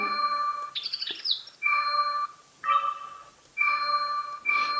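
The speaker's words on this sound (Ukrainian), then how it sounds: "Звук запису, звук запуску." A sequence of short electronic chime tones, bright and melodic, plays in bursts with brief pauses between them: the startup jingle of a Canon IXUS 75 digital camera.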